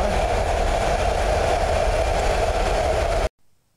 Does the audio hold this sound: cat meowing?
no